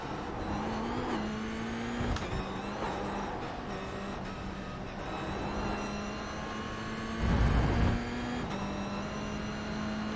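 A race car roars steadily around the Jerez circuit in the iRacing simulator, its engine note rising and falling through gear changes, with a brief heavier rumble near the end.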